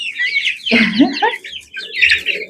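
A flock of around thirty young chicks clucks and peeps close by, with soft low clucks in the middle and a scatter of high chirps running throughout.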